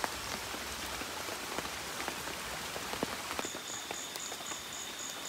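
Steady rain falls at a forest camp, a dense, close hiss of drops pattering on surfaces with occasional louder splats, while a faint high insect or frog trill joins near the end.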